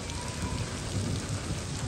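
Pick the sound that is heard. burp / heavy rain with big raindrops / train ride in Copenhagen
heavy rain with big raindrops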